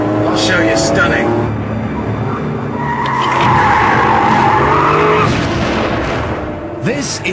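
Porsche 911 Carrera 2S tyres screeching in a long, loud skid, swelling in the middle over a steady engine roar, with the car driven hard close by.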